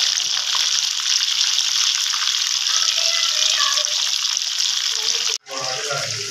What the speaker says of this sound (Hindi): तेज आंच पे इसको आपने फ्राई करना अच्छी तरह।